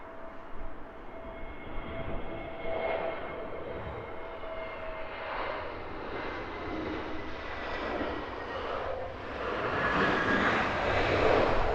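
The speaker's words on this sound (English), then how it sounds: "This is British Airways flight 677. It's an A320neo inbound from Istanbul." A British Airways A320neo arriving from Istanbul lands at Heathrow, its jet engines a distant, steady roar with a faint whine that swells louder toward the end.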